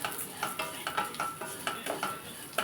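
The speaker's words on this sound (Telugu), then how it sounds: "సేమ్యాకి ఇప్పుడు కొంచెం నెయ్యి వేసి స్టవ్లో పెట్టాము కొంచెం సేమియా వేస్తున్నాను" Vermicelli roasting in ghee in a pan on the stove for payasam, with steady rhythmic stirring scrapes over a soft sizzle, close up and without talk.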